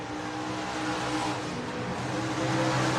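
Stock cars racing around a short oval raceway track, their engines roaring steadily at a distance with a continuous droning rumble.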